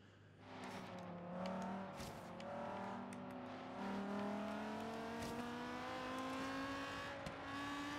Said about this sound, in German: Ich roll mit dem Auto aus.